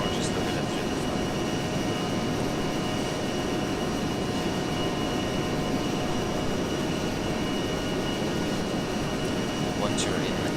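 A-10C jet rolling down a runway in ArmA 3, a steady loud engine roar with broad rushing noise throughout and no clear rise in pitch.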